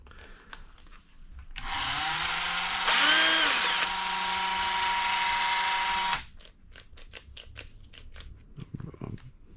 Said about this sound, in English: Turn the Dremel on, hit it with a drill.